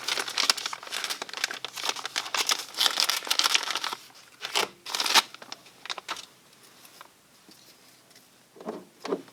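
Plastic bag holding a pinball machine speaker-light remote control crinkling as it is handled up close, bursts of dense rustling for several seconds, then quieter intermittent crackles and taps.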